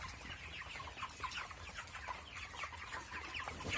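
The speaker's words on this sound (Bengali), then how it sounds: "এখানে একটা মুরগি ডাকে ব্যাঙের মতো" Chickens clucking repeatedly in a steady, irregular chatter, fairly quiet, with no talking.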